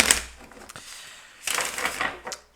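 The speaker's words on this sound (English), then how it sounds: "let me just shuffle this deck" Dry papery riffling of a shuffle of thick playing cards, one flurry at the start and another burst about halfway through, with faint movement noise in between.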